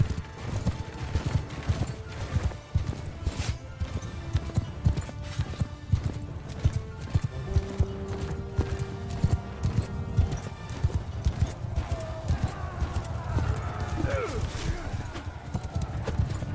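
Cavalry horses gallop in the video game Mount & Blade II: Bannerlord. Dense hoofbeats thunder steadily through a loud, busy battle mix with a whinny, and a voice talks over it throughout.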